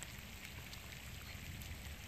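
Steady rain falling outdoors during a summer fishing outing, a dense continuous hiss with no breaks, fairly loud and even throughout.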